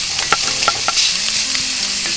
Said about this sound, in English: We're going to brown this up